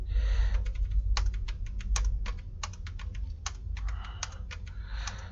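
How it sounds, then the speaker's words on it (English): Someone types random text on a computer keyboard, a steady run of crisp, close key clicks with short pauses between bursts, heard alone without speech. "so I'm just typing jargons. It doesn't mean anything."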